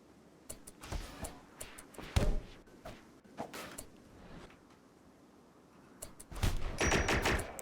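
Gunfire from the video game RimWorld crackles in quick, irregular volleys: scattered sharp shots through the first few seconds, then a denser, louder burst of sustained firing at the end, all fairly faint overall.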